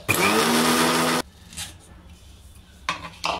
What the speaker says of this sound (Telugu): ఇప్పుడు మనం దీనిని మిక్సీకి పట్టాలి